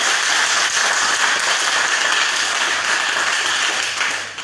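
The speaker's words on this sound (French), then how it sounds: "je demande encore une standing ovation pour l'aîné" A large audience in a hall gives a standing ovation, dense steady clapping filling the space at full volume and easing off slightly at the end, with no voices over it.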